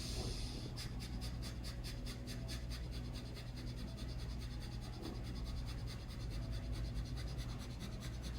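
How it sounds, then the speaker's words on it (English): Quick, rhythmic panting breaths in a breathing exercise, a steady run of short, evenly spaced huffs close to the microphone, with no talking. "It kind of sounds like a dog panting"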